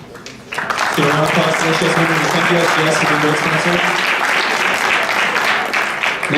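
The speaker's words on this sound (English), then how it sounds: "Give a round of applause to SGS members and thank you SGS for being great sponsor." Loud, steady audience applause at a hackathon closing ceremony, thanking a sponsor, rising sharply within the first second and holding for several seconds while a speaker's voice carries over it.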